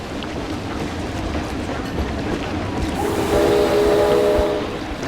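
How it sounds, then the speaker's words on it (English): A train rumbles past in the Planet Coaster 2 theme-park game, with a steady broadband roll that swells near the end as a sustained horn-like tone sounds over it. "There goes the train."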